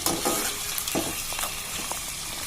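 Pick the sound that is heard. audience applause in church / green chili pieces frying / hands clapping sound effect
green chili pieces frying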